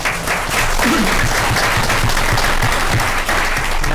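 Sustained, loud applause from an audience at a board of education meeting, a thick continuous clatter of many hands with a brief voice rising near the start.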